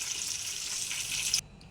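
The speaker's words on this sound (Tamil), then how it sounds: "தேவையான அளவு தண்ணி ஊற்றிக்கலாம்" Water pours from a tap or container into a pan of prawn gravy, a steady splashing stream running for over a second before cutting off abruptly, close and fairly loud with no talk.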